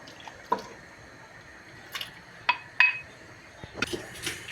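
Beans and their cooking water being added to wheat in a pot for aşure, heard as a few soft wet drips and splashes with light clinks of utensils against the pot, spaced out and fairly quiet.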